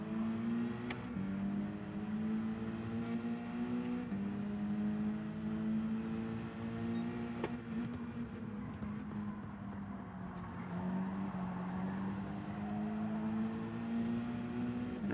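Race car engine in Gran Turismo 7 held high in the revs, a steady droning tone with small pitch sways and brief dips near the limiter, moderately quiet, with no speech.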